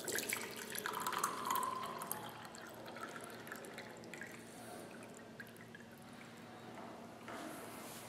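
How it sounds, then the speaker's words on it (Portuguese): Water is poured into a mug, a steady soft splashing and trickling stream that fades gradually, with no voices. "Agora eu vou despejar água"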